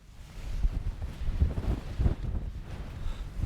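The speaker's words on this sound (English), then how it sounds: "wind is horrendous" Strong winds of about 50 mph buffet the microphone on an exposed hilltop in low, rumbling gusts that swell and fade over a few seconds, with no voices.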